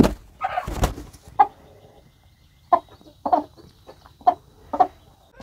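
A very broody hen clucks in a series of short, separate low clucks spaced a second or so apart, near and fairly clear over a quiet background.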